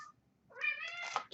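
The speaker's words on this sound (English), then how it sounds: "Kitty." A pet cat meows indoors, a single drawn-out, fairly close meow rising after a brief quiet moment, with no talk over it.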